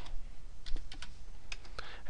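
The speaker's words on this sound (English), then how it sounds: "now I'm going to type charts" Keyboard typing in a computer class lesson: a handful of sharp, uneven key clicks spread across the moment, close and clear over a faint room hum.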